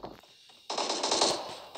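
M4 rifle fire in a video game: a short burst of rapid automatic shots, close and loud, following a couple of fainter clicks.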